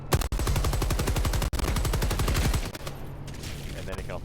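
Support weapon in the Helldivers video game fires a rapid, loud burst of regularly spaced shots for about two and a half seconds, then cuts off into quieter game ambience.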